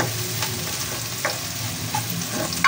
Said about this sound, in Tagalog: Halu-haluin po natin para hindi po siya masunog.